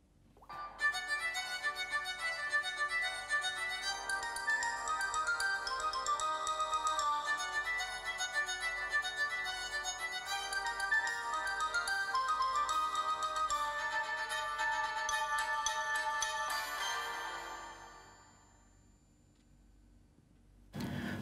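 Ringtone playing through the loudspeaker of a Samsung Galaxy S5 phone, a bright melodic tune that runs steadily for about seventeen seconds and then fades out.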